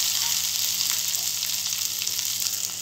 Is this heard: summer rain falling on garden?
no